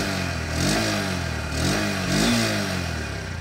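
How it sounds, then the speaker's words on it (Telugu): A 2025 Honda SP125 motorcycle idles with a steady exhaust note and is blipped three times, each rev swelling briefly and falling back to idle, loud and close with no talking. "ఇప్పుడు ఒకసారి ఎగ్జాస్ట్ సౌండ్ అయితే వినండి"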